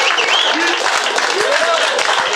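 Comedy club audience clapping at a stand-up's joke, a steady, dense patter of many hands filling the room, loud and close, with faint voices and cheers mixed in.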